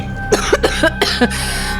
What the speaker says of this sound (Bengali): কাশিটা পুরোপুরি নির্মূল হতে আরো কটা দিন সময় লাগবে।